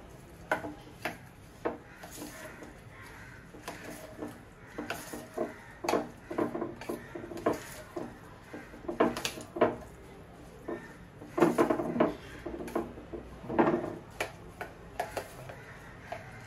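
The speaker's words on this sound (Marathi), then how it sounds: "वेलची पावडर घेतलाय आणि चिमूटभर मीठ घेतलं। आता हे सारं आपण छान मिक्स करून घेऊया।" Jaggery, cardamom powder and a pinch of salt being mixed together in a pot for traditional Konkani sandan, giving irregular scrapes, taps and light clinks of a spoon against metal, close and steady throughout.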